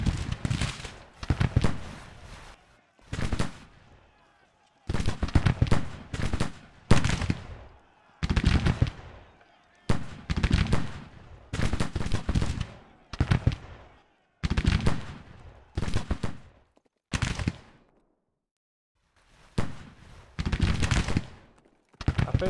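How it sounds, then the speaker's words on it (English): Musket volleys from soldiers in a Civil War video game, a long series of loud, sharp cracking bursts, each fading before the next, arriving in irregular rolling waves. "Just continue firing."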